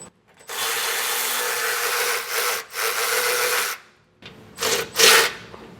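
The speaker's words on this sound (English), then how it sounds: "I'm going to use a 13mm socket and get these both removed." Ratchet with a 13mm socket spinning out bracket bolts from a 2024 truck frame, long rapid buzzing clicks in close, loud runs broken by short pauses and a few final bursts.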